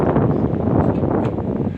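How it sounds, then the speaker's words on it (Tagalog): Loud, blustery wind buffets the microphone, a heavy continuous roar with no voices. "ang lakas ng hangin"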